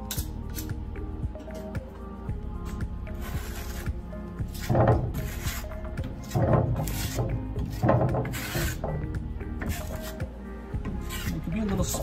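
A trowel spreads a thin skim coat of blue lime putty plaster over an intonaco base, giving repeated close, rasping swipes in an uneven rhythm that grow louder in several strokes.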